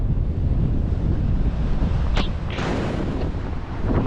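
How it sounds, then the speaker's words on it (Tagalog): Storm-strength wind blows hard across the open sea on a crossing from Mindoro to Navotas, a constant low roar and microphone buffeting mixed with splashing waves and a brief hiss of spray. "Grabe, lakas ng bukso ng hangin dito"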